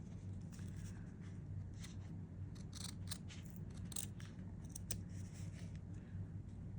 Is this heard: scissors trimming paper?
yes